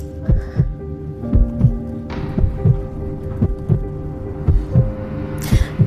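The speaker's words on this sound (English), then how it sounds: "I could hear the sound of my own heartbeat" Heartbeat sound effect: a loud, close, steady thumping pulse of paired low beats, repeating throughout under a droning hum with occasional swells.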